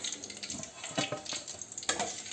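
Sweet modak frying in oil over a low flame, a soft crackling sizzle broken by several brief scraping stirs and light utensil clinks, close by and without voices.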